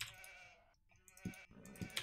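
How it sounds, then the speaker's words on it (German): Sheep bleat in a real-time strategy video game match, a couple of short, fairly faint bleats over steady game ambience and clicking, with no talk. "Schafe."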